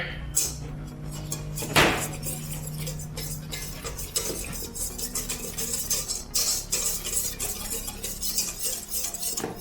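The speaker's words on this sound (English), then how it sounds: "now we're gonna whisk this nice together." Burger bun ingredients are whisked in a bowl, a fast steady run of close scraping and clicking strokes with a louder clank near the start.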